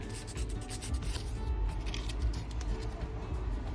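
Bicycle brake pads being sanded to expose fresh rubber, a steady close scraping rub that continues evenly throughout without any voices.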